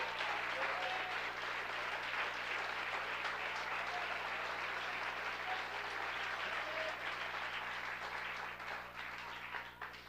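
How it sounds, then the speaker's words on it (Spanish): A church congregation applauds steadily during a sermon, dense sustained clapping from a large crowd that holds for about ten seconds before easing slightly at the end. "Si puede aplaudir a Dios, apláudale."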